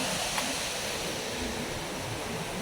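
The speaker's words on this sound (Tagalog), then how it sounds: "Ang ingay ng dagat." Sea waves washing onto a sandy beach make a steady, close, full rushing roar that never pauses or swells into distinct breaks, with no voices over it.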